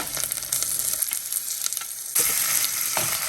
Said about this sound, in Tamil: இப்போ தக்காளியை நல்லா நல்லா கலந்து விட்டுக்கோங்க